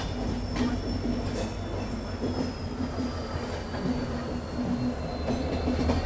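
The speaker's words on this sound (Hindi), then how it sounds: "ज्ञानेश्वरी एक्सप्रेस जो है वो डिपार्चर ले रही है। जी रायपुर स्टेशन से अपना डिपार्चर" The Gyaneshwari Express pulls out of Raipur station with a continuous rumble of rolling wagons, a thin high wheel squeal drawn out across it and light rhythmic clatter from the track.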